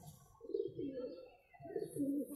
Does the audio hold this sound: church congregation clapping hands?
no